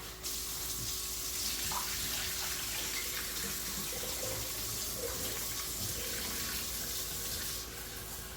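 Sushi rice gets rinsed under a running tap, a steady close hiss of water pouring and splashing into the sink that continues without a break, with no talk.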